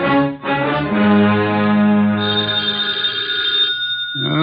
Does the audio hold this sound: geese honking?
no